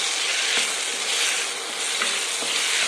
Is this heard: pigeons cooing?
no